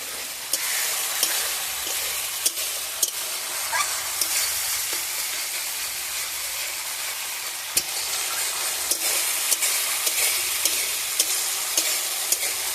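Turmeric and chilli spice paste sizzles in a pan with a little added water while cooking for an eggplant and hilsa fish curry. A steady, bright hiss continues throughout, broken by regular sharp taps of stirring.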